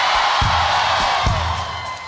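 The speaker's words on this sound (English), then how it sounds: "let's give it up for the band." A concert audience cheers and claps for the band at a set in LA, a steady wash of crowd noise and applause with occasional whoops, easing slightly toward the end.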